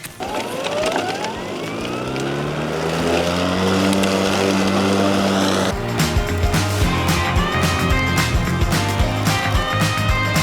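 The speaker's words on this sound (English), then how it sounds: "we're going to take a string trimmer and I am going to buzz it down to the dirt" A string trimmer cutting weeds down to bare dirt revs with a rising engine whine, then holds a loud, buzzing high pitch with choppy fluctuations as the line strikes vegetation, close by.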